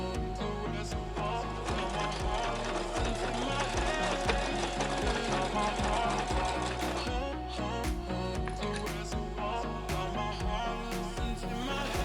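A sewing machine runs steadily on an overlock stitch, its rapid mechanical stitching chatter continuing without pause at close range, with no voices.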